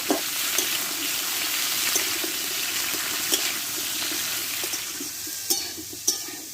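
Vegetables with turmeric powder sautéed in a pan, a continuous close sizzle with soft intermittent stirring scrapes and a few sharper clinks near the end, no talking.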